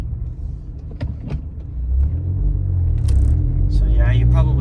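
Ford Focus ST with a CPE stage 2 rear motor mount, shifted from neutral into first gear with the clutch let out slowly: low engine rumble that swells and deepens as the car pulls away, with faint clicks and mechanical noises.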